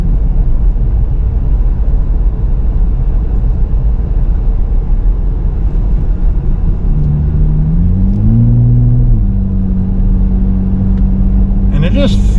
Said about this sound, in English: Got a nice exhaust noise coming out the back